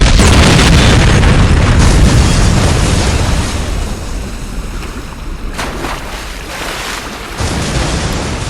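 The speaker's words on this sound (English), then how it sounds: "A deadly explosion has rocked the waterfront." Huge explosion at a waterfront in the video game Saints Row, a loud sustained roaring blast that fades into rumbling debris and water-like wash, with a second surge of noise near the end.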